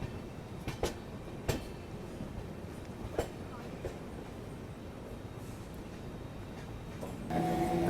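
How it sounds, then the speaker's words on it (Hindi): A passenger train runs alongside and overtakes a moving express train on parallel track, heard from inside a carriage as a faint steady rolling rumble with scattered clicks and clatter, rising slightly near the end. "पैसेंजर ट्रेन जो है वो पैरेलल में आ रही है।"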